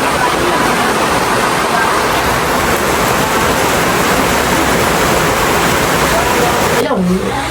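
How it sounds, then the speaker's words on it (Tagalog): Heavy rain pours down outdoors in the Philippines, a dense, steady roar of downpour that stays loud and constant throughout and ends in a brief disturbance near the end. "Lakas po ng ulan. Punsuan eh."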